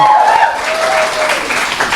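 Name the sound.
congregation clapping hands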